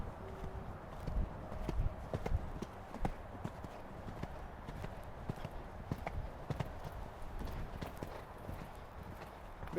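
Hooves of a show-jumping horse clip-clop in a steady, moderately faint rhythm as it moves between obstacles, with a low ambient rumble throughout.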